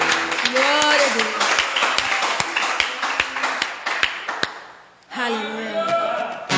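Rhythmic clapping in steady beats alongside singing voices at a church worship service, loud and close, with a brief drop before the crowd and music resume.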